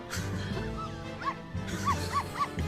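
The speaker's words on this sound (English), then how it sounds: "But sir... The dog!" Short, yipping barks from a dog in the Professor Layton vs Ace Attorney video game, several quick woofs in a row against a quiet background of game music.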